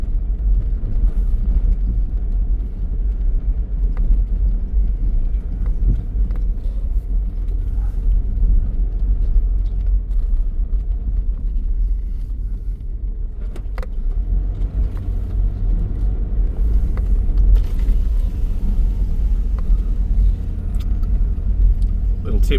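Steady low rumble of a car driving on rural roads near Ballarat, heard from inside the cabin as a constant engine and road-noise drone with faint rattles and clicks.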